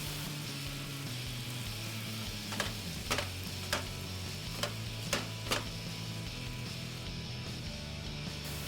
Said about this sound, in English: Add another knob of butter into the frying pan and saute the potatoes for a few minutes.